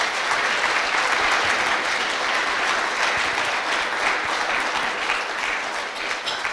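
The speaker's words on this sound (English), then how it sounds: "So round of applause again for Jaron." A conference audience at Objective by the Sea v1.0 applauds speaker Jaron Bradley after his talk, a thick, even roar of clapping that holds steady and loud for the whole stretch with no talk over it.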